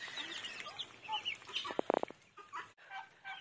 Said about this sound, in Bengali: রাজহাঁস 2টা এত ডাকাডাকি করে